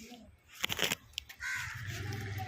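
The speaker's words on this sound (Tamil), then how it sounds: "அங்கங்கே என்னென்னோ குருவி கத்துது" A crow caws outdoors in a few harsh, rasping bursts among other bird calls, followed by a steadier rough noise toward the end.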